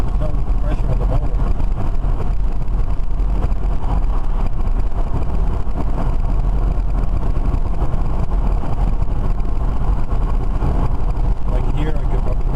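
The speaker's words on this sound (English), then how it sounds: "you can hear the motor there, it's just spinning around" The electric motor of a BMW EV conversion spins freely with no load, a loud steady whir that continues evenly under broadband road-like rumble throughout.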